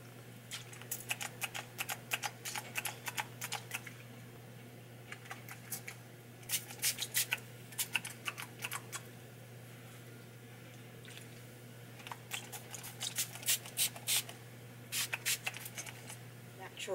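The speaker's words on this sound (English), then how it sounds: "Shea Moisture Thickening Mist just on my roots" Shea Moisture thickening hair mist is sprayed onto the roots of the hair in quick clusters of sharp, close spritzes separated by short pauses, over a low background hum and a faint voice.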